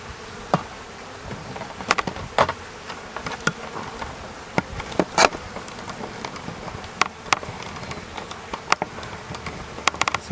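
Honeybees buzz steadily inside an opened hive, with a dense, continuous hum close by and scattered sharp knocks and clicks from the frames throughout.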